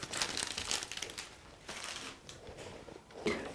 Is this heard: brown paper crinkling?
yes